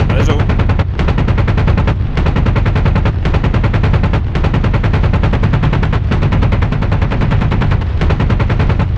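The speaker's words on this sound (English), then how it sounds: "I love the sound of this gun so much" Sustained rapid fire from an AH-64D Apache helicopter's cannon in the DCS flight simulator, loud, close and dense rattling bursts with brief pauses roughly every second, continuing the whole time without talk.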